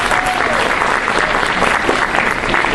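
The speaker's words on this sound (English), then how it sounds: "give yourself a nice round of applause for coming and supporting the students here tonight" An audience at a Persian Shab-e Yalda student event gives a sustained round of applause, dense, loud and even clapping filling the room with faint crowd murmur.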